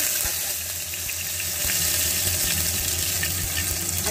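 Nigella seeds and a bay leaf sizzle in hot mustard oil, giving a steady hiss with light crackles over a low background hum. It is close and even, with no voice.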